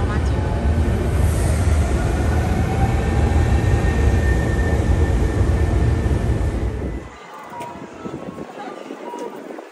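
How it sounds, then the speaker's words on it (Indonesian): A Hankyu train rumbles loudly and steadily close by at a station, then the noise drops off abruptly as it pulls away, leaving quieter ambience. "Nah ini keretanya langsung balik lagi ke Kyoto Karawamachi."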